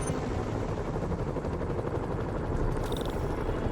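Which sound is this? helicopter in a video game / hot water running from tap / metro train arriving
helicopter in a video game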